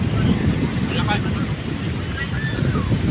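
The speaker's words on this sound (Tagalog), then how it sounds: "malakas yung habagat at saka yung hangin" Strong southwest monsoon wind buffets the microphone in a continuous low roar, with a faint hiss of surf or water underneath, on the shore of Manila Bay.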